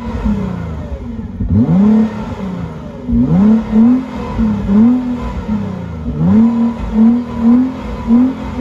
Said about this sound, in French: on va mettre des petits coups de gaz pour que vous entendiez un petit peu le V6